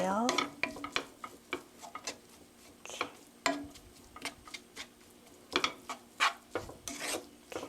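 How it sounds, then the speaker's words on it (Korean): Kimchi fried rice sizzles and scrapes in a pan over medium heat as a spatula stirs and chops through it in irregular strokes, with a brief word spoken. "이렇게 지글지글 소리만 나면 돼요."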